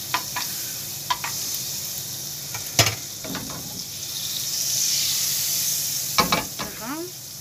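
Margarine melting in a frying pan gives a steady, soft sizzle, broken by a few sharp clinks and scrapes of a utensil against the pan, close by with no voices.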